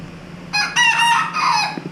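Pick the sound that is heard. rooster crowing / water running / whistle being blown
rooster crowing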